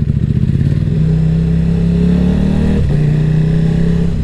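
Loud, steady engine drone from a KTM 1190 RC8 R sport motorcycle while riding, holding a deep constant note with a brief dip near the end, close and continuous with no talk.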